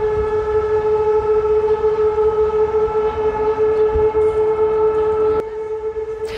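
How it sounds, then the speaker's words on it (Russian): Civil defense warning sirens sound during a regional alert system test in Tyumen, a loud steady wail with sustained tones and a sharp drop in level near the end, with no voices. "Сегодня в Тюменской области прозвучали сирены."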